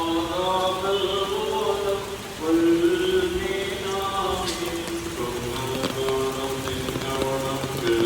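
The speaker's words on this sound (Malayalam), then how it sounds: "വൈകിട്ടായപ്പോഴത്തേക്ക് അത്യാവശ്യം നല്ല മഴ പെയ്യുന്നുണ്ടായിരുന്നു കേട്ടോ" Heavy evening rain pours steadily on surfaces close by in Kochi, Kerala, a dense continuous patter with some tonal humming mixed in.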